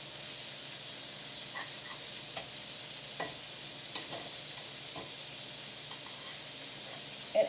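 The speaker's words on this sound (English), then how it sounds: "I'm going to go ahead and put some butter" Butter in a hot pan for shrimp toast, a faint, steady low sizzle with a few soft clicks and taps from the pan, quiet and close.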